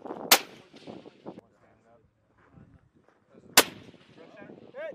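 Two sharp rifle shots crack at a sniper and .50-cal firing range, several seconds apart, each a loud, abrupt report, with voices talking quietly in between.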